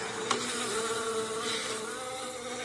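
A swarm of bees produces a continuous, dense buzzing drone that stays close and steady throughout, with no voices.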